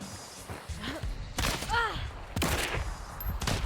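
Gunfire from the video game Hunt: Showdown cracks out as a few sharp, separate shots with the game's ambient sounds between them.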